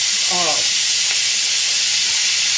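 Ground meat fries in a pan for spaghetti sauce, a loud continuous hiss and sizzle filling the whole stretch, with a brief voice near the start over the crackle.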